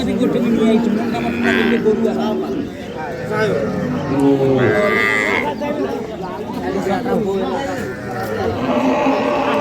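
Cattle at the Ambari livestock market in Dinajpur, where Sahiwal, Sindhi and local dairy cows and calves are sold. Loud lowing moos repeat over a busy crowd murmur, with people talking nearby throughout.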